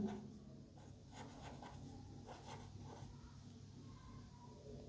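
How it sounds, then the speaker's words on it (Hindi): Pen or chalk writing a line of a math proof in a classroom, soft scratchy strokes in short bursts, faint against a low steady background hum, without speech. "एक लाइन और लिखेंगे नीचे"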